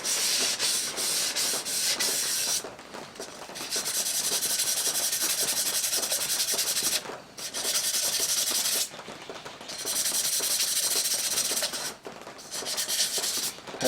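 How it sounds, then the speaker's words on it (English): Steady, rasping sanding strokes on a handmade cup go on for a long stretch, loud and close, broken by a few brief pauses. "Have some intense sanding moments."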